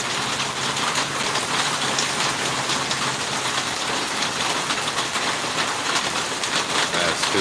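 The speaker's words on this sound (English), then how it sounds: "Anybody like to listen to the rain on the tin roof on a rainy day?" Steady, dense rain pattering on a tin roof, a continuous close hiss with scattered drops, no voices.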